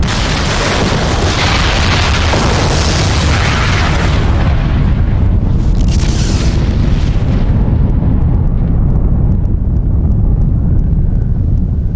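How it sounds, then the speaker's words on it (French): A massive volcanic eruption on Krakatoa, all three craters blasting at once: a loud, sustained, deep roaring rumble with heavy booming low end that fills the whole stretch, easing slightly toward the end. "Les 3 cratères de l'île volcanique de Krakatoa entrent en éruption."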